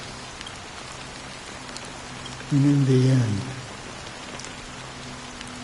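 Steady rain falls in a continuous wash of patter throughout, in the game Honkai Star Rail, while a voice speaks briefly over it partway through.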